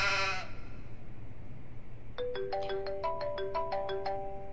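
A mobile phone ringtone plays a repeated bright melodic tone pattern at moderate loudness over a low background hum, starting partway through after a brief burst of other sound.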